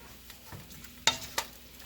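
A long-handled spoon stirs a carrot cake jam mixture in a pot, with a few quiet scraping swishes and two sharper clinks of the spoon against the pot rim, near and alone.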